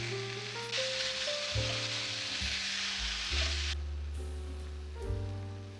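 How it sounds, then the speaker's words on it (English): Onion and beef mince sizzle steadily in a hot pan, a bright frying hiss with a brief stirring burst, close and clear over soft background music, no voices. "In the same pan, cook the onion until soft before adding the beef mince."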